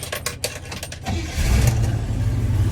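Clicks and rattles, then a 1964 Chevrolet Chevelle Malibu SS engine cranks and catches, settling into a loud, steady rumbling idle.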